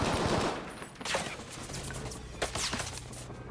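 In Battlefield 5, a Bren light machine gun fires in quick, sharp bursts that crack in the foreground, with short pauses between volleys and no talk.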